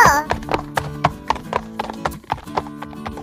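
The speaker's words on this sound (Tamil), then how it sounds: "இந்த குதிரை சவாரி பார்க்க ரொம்ப ஜாலியா இருக்கு" Horse hooves clip-clop steadily during a horse ride, making a close, even rhythm of sharp knocks, with a brief voice at the very start.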